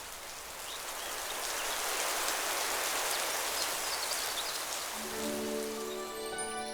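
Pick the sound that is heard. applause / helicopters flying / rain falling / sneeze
rain falling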